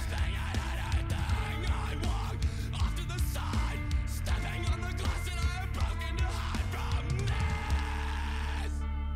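Band music from a song: raw screamed vocals out front over sparse, minimalist instrumentation, loud and continuous until the music cuts off near the end.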